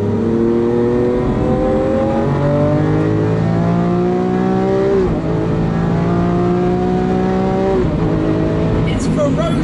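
A 2017 Lamborghini Aventador S pulls away under hard acceleration, its loud engine climbing through rising harmonics with a brief dip near five seconds as the pitch resets, then climbing again, close and continuous throughout.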